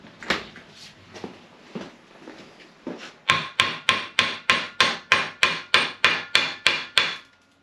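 A mallet strikes a hot bolt on an engine swap: a few soft clunks, then a steady, rapid run of about a dozen sharp, loud metallic blows close by.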